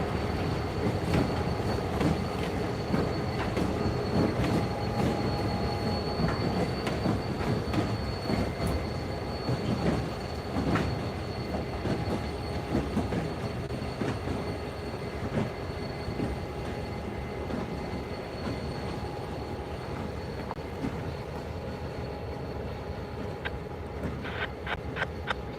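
A New York Central train reverses slowly into the yard at DeButts, with continuous rumbling wheels, rhythmic clicks over rail joints and a thin squeal of wheels, close and steady throughout.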